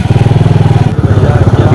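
Motorcycle engine running steadily and close while the bike is ridden, a continuous throbbing drone with a regular pulsing beat throughout.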